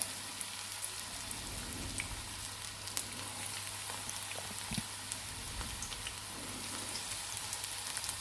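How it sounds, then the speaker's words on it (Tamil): Onion bonda batter frying in hot oil, a steady dense sizzle with scattered crackles and pops, continuous and fairly close throughout with no talk. "நான் இப்போ மீதி இருக்கிற மாவுலேயும் இது மாதிரி போண்டா ஃப்ரை பண்ணிக்கிறேன்"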